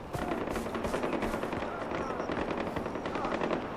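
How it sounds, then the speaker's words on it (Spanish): Rapid bursts of automatic gunfire from the video game Far Cry 4 rattle continuously at moderate volume, dense and unbroken for a few seconds. "Oigo disparos y no se ve a nadie"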